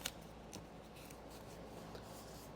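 Tape being pulled and run down the middle of a leather Porsche seat, giving faint soft scratchy rubbing and light ticks close to the microphone over a low steady background hiss.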